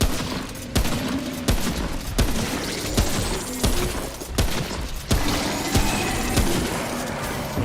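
Repeated gunfire from a boss enemy in the video game Remnant: From The Ashes, a series of sharp shots spaced about every half second to second over steady game background noise, with no talking.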